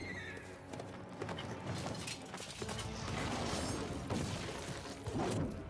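Hooves clip-clop alongside a horse's whinny amid a busy, crashing soundscape from The Witcher 3: Wild Hunt, with steady background noise.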